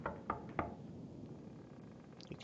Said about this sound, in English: You knock on the door. No response.